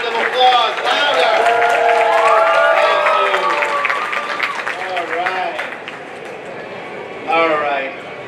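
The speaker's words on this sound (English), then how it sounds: "I said a round of applause." Crowd applause and cheers at a kids costume contest at a comic convention, broad and sustained over a busy hall, with an announcer's amplified voice talking over it and the clapping fading slightly toward the end.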